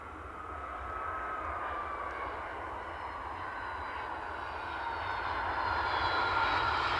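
A United Airlines Boeing 757 jet moves at Edinburgh Airport, with a steady jet-engine roar and whine that slowly swells louder over several seconds, heard from a distance with no speech.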